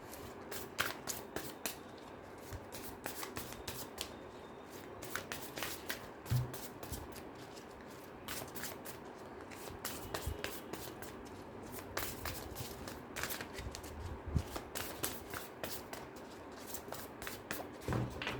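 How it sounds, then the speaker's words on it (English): Tarot cards shuffle steadily for a long stretch, soft riffling and sliding with frequent small clicks, close and quiet. "Let me just shuffle your cards."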